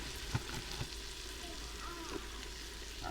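Onions, garlic and flour frying together in a pan give a steady low sizzle, with a few soft stirring knocks and scrapes rising briefly above the hiss.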